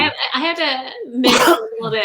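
A single sharp sneeze bursts out in the middle of a podcast conversation, sandwiched between stretches of ordinary talk.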